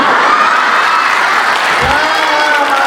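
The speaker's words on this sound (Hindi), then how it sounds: "बहन जी ये ताली बच्चे ही बजाएंगे" Dense, steady applause fills a comedy poetry show (kavi sammelan) with the hindi humor poet Anil Agravan, loud and continuous from start to end, with a few scattered audience voices mixed into the clapping.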